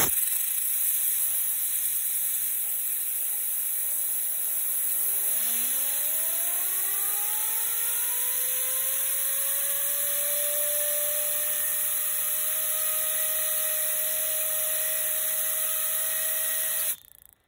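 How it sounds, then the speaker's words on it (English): Compressed-air blower hissing steadily and loudly across a hot blue ignition spark arc from a spark plug wire, rising tonal whines sweeping upward early on, continuous to the end with no talk. "Now it's gonna be a little loud because I'm gonna use my air blower"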